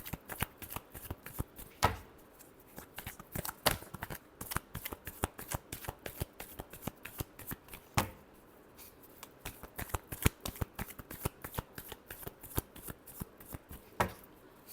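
Tarot cards being shuffled by hand, a long run of quick papery riffles and soft slaps with brief pauses, close and fairly quiet, with no talking.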